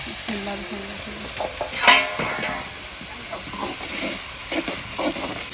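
Tomatoes drop into a pot of frying onion, garlic and ginger paste, giving a sharp sizzling hiss with steady frying and stirring noises close by in a village kitchen.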